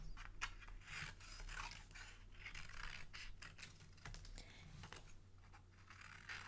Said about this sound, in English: I'm going to cut off some of the excess.